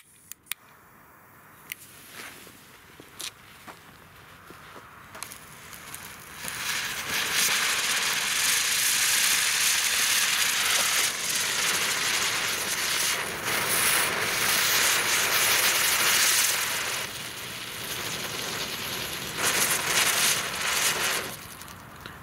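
A Silberkreisel ground-spinner firework burns with a long, loud, steady hiss and crackle that rises sharply after a few quiet seconds and keeps going for about fifteen seconds.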